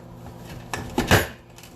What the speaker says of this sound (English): So let's just quickly cut the rest of this up.